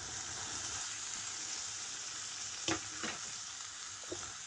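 Chopped potatoes added to onion and chili softened in hot oil for a bitter gourd stir-fry, giving a steady dense sizzle with a few spatula scrapes, close and alone without talking.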